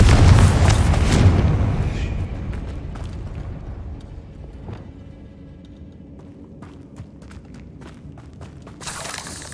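A loud booming blast from the Confringo spell in Hogwarts Legacy, a heavy explosion that rolls off and fades into scattered crackling debris and clicks, then a brief swell near the end.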